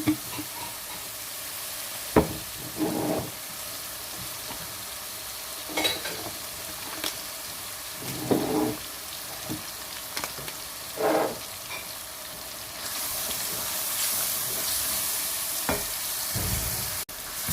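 Chana masala spices frying in a pan with a continuous soft sizzle, interrupted by repeated scraping and stirring strokes at a steady pace, and a louder hiss rising toward the end.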